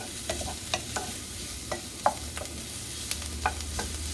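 Finely chopped fresh garlic fries in a pan with a steady quiet sizzle, broken by scattered stirring scrapes and taps from a utensil; no voices.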